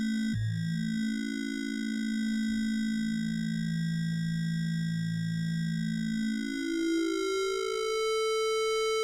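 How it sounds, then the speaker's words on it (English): A single sustained note from the Manatee synth, its tone shifted by LFO1 modulating the formant, so its pitch and timbre slide down, waver and climb back up in a smooth, loud electronic sweep with no talking. "let's listen to one note, and now we'll bring LFO1 to control Formant"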